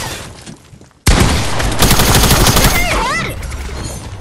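Video game gunfire erupts after a brief quiet moment: a loud, dense burst of rapid shots that carries on and slowly fades, with a short voice heard underneath.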